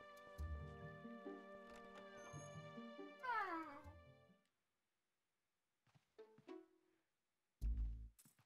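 Cats meow in The Legend of Zelda: Twilight Princess on GameCube, a run of drawn-out tonal cries followed by quiet, then a few shorter meows and a louder final burst.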